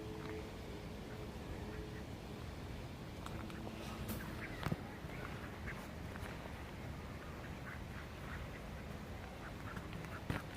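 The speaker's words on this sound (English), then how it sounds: "Very tame ducks." Tame ducks quack in scattered bursts outdoors, faint and somewhat distant over a steady background hiss, with occasional louder calls.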